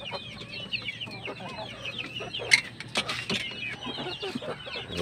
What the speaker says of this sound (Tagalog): Doon sa taas mga kapanok